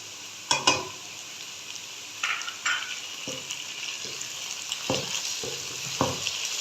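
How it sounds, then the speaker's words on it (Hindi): Potatoes and onions fry in a pan for an Afghani potato omelette, a steady close sizzle broken by several sharp stirring scrapes and clatters, with no talking. "अभी 1 मिनट तक प्याज को फ्राई करेंगे आलूओं के साथ"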